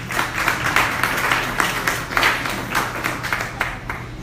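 An audience at a photography festival in Haiti applauds, steady dense clapping throughout with a few louder peaks, filling the room without any voices.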